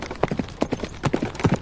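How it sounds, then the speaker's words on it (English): Hooves of a galloping horse carrying a rider clatter in quick uneven clusters of hard thuds, close and distinct, over a brief stretch with no talking. "The horse and rider took off like a hurricane."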